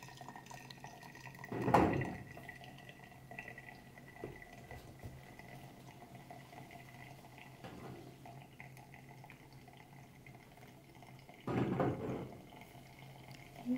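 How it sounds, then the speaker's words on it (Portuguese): Coffee being brewed through a filter in a home kitchen, with hot water poured over the grounds. Soft, steady dripping runs throughout, and two louder splashing bursts of pouring come near the start and again near the end. "Eu amo esses momentos aqui passando o café."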